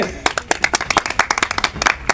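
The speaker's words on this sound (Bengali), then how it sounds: "সাগরের জন্য সবাই একটা জোরে হাততালি হয়ে যাক" Quick, close claps ring out at an outdoor rooster-fighting game, cheering the winner in a short, brisk burst of applause.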